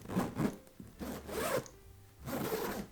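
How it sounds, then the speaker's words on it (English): Candle wax dragged back and forth along the zipper of a designer handbag, giving three rasping zip strokes in a steady rhythm, close and clear with no talking. "you just drag the little candle across the zipper to make it go smoother"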